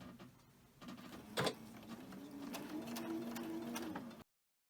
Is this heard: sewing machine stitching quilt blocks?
yes